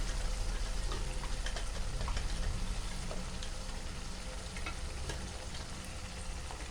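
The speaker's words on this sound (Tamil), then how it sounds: "இப்போது தக்காளி நம்ம மிக்சியில் அரைச்சி வச்சுருக்கோம் ரெண்டு தக்காளி பெரிய தக்காளி அதை நம்ம சேர்த்துக்கணும்" Two large ground tomatoes added to ginger garlic paste frying for mutton gravy, a dense steady hiss and bubbling sizzle that stays loud and close throughout, with no one speaking.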